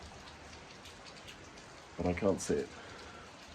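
Rain falls outdoors at a Tuscan villa as a soft, steady patter. Someone briefly speaks over it near the middle.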